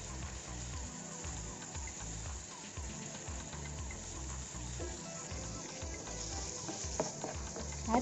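Tomatoes sauté in a hot pan for gram flour chutney, giving a steady, fairly quiet sizzle and crackle with faint stirring scrapes throughout.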